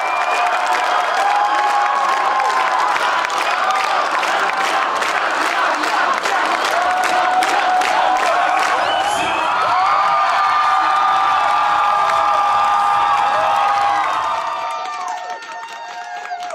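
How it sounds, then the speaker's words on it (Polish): A large audience applauding and cheering a performer, sustained dense clapping with shouts and whoops, loud and continuous before easing slightly near the end. "Ze wszystkich uczestników to jego występ wszyscy oklaskują najbardziej"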